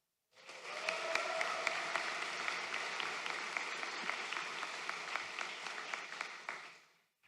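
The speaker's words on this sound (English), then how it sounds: "I think another round of applause" Steady sustained applause from a large audience at a Doctor of Physical Therapy commencement and hooding ceremony, a dense wash of clapping that swells in quickly, holds for several seconds and fades away.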